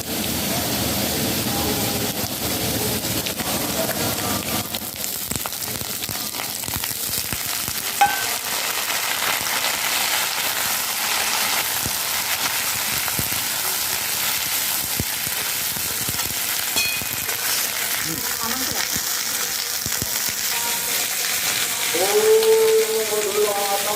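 Cauliflower pieces frying in hot oil with dried red chillies, a steady broad sizzle and hiss with occasional stirring clatters, continuous throughout.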